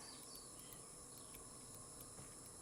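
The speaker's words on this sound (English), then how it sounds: "Whatever the crickets or something are driving me a little nuts." Steady chorus of crickets chirping in the ambient soundscape of the video game Myst, a continuous high trill with faint regular pulses, soft and unbroken throughout.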